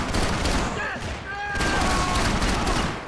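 Gunfire from two pistols fired at once in the shooter game Max Payne 3, a dense rapid burst of shots filling the clip, loud and continuous with a brief dip in the middle.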